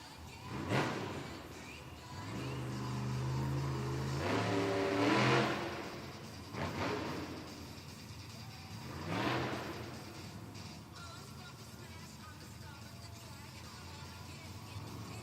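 A monster truck engine revs at a Monster Jam show in Edmonton, several rising and falling roars through a distant arena, with an announcer talking over it.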